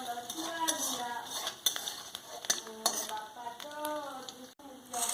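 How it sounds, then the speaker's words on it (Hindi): Chopped ginger and garlic fry in a pan for soyabean chilli, giving a soft, continuous sizzle under repeated light scraping and clinking strokes from a stirring utensil. "पहले हम जिंजर गार्लिक थोड़ा डाल देंगे। उसको हम थोड़ा सा फ्राई करेंगे।"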